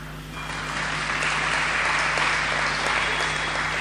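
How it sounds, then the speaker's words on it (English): Hands clapping together among a devotional gathering of Sai Baba followers, rising quickly into a steady, continuous wash of applause over a low hum. "It is not for me you are clapping"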